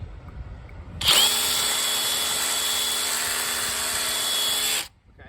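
A hammer drill in hammer mode starts abruptly, drilling a hole in a fence gate at a steady, loud, high-pitched whine for about four seconds, then cuts off.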